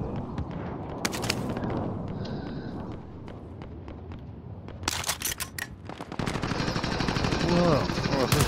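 Call of Duty Warzone gunfire cracks out in rapid automatic bursts, some near and loud, others more distant, as several shots and bursts pile up over the din of the game.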